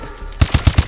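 A rapid burst of four gunshots from the video game Call of Duty: Advanced Warfare, loud and close, evenly spaced in a quick run after a moment of quiet.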